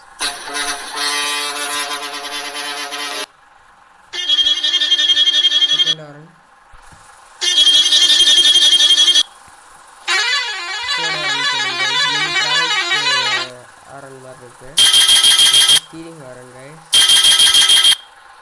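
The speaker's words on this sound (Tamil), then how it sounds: "ஹார்ன்ஸ் கேளுங்க." A series of loud electronic bus horn blasts in a bus driving video game, some long and warbling, some short and sharp, separated by brief pauses.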